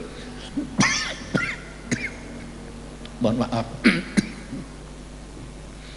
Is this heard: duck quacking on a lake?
no